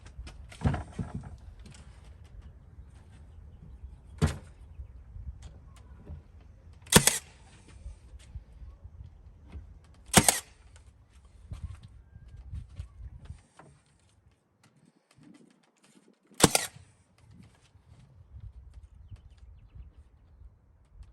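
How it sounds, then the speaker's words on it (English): Nail gun driving 1¼ inch nails into a lightweight RV cabinet, five sharp, loud, close shots spread irregularly over a quiet workshop background. "I'm using an 1¼ inch nail, so I'm kind of angling the nail gun a little bit"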